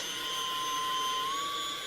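A model jet in the RealFlight simulator gives a steady, whining turbine drone with a slowly rising pitch, moderately loud and continuous with no talk.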